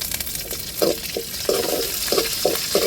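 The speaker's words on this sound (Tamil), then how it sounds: "கருவேப்பிலை சேர்த்துக்கிடுவோம்" Curry leaves hitting hot oil with popped mustard seeds and onion for a rasam tempering, a steady close sizzle broken by short bursts of stirring and crackling.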